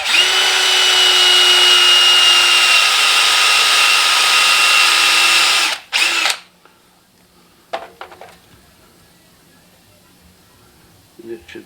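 A power drill bores a hole using a piece of 3/32 welding rod as the bit in an ornament base, running loud and steady for about six seconds before stopping, followed by a few faint handling clicks.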